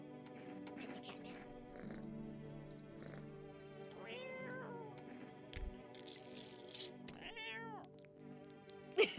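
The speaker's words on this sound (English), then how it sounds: "Pet the cat." A cat in the game No, I'm Not a Human meows repeatedly while being petted, giving several clear, close, rising and falling calls over a quiet background, with a soft thump near the end.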